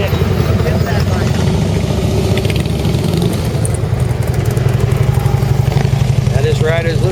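Big motorcycle engine running at low revs during a slow U-turn, a steady rumbling throb that persists throughout, close and loud, with a voice talking over it.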